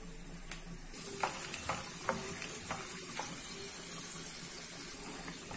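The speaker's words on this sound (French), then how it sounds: "Donc je vais bien laisser dorer. Surtout je mélange de temps en temps pour pas que ça brûle." Almonds toasting in a frying pan for a prune tajine, stirred now and then: a steady close sizzle with scattered scraping taps from the stirring, no voices.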